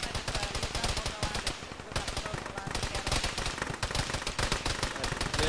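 Gunfire in a military shooter game, sustained rapid automatic fire rattling almost without pause, a dense stream of close, loud shots with a brief dip partway through.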